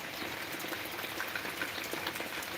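Rain falls steadily during the monsoon, a faint, even patter and hiss with scattered drop ticks and no voices.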